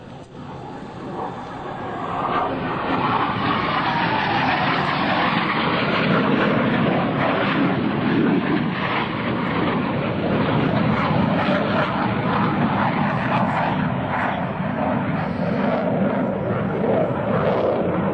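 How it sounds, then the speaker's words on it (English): US Navy Blue Angels F/A-18 solo jets fly inverted at an airshow, a loud, broad jet roar that swells in over the first seconds and then holds steady and powerful without a break. "our two solo pilots are approaching once again to demonstrate the inverted flight capabilities of the FA-18"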